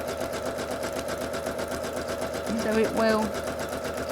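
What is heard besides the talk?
sewing machine zigzag stitching for thread painting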